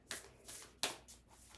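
A deck of tarot cards is shuffled by hand close up, several quick riffling bursts of papery flutter in a short uneven rhythm, with no voices.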